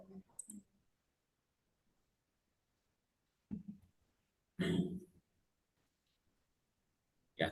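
Computer mouse clicks on buttons in grading software come as a few sparse, isolated clicks separated by long stretches of near silence. They are quiet and close.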